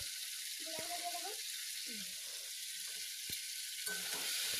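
Chicken pieces sautéing with cumin powder in a pan, a steady bright sizzle running throughout with occasional soft stirring scrapes and clinks of a utensil.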